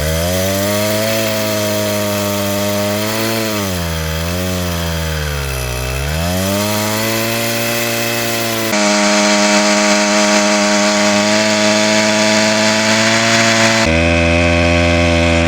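A motorized bicycle's small engine revs at full throttle, a loud buzzing drone that sweeps up and down in pitch before holding high and strained, close by with no talk.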